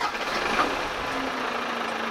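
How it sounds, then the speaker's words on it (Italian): A six-cylinder in-line FPT Industrial diesel idles in an Astra HD 9 quarry truck, a steady close rumble holding an even level throughout with no voices over it. "Sentite la musica del 6 cilindri linea FPT Industrial."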